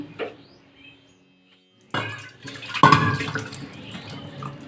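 Dishes being washed under running kitchen water, with a quiet start giving way to splashing, gushing water near the end.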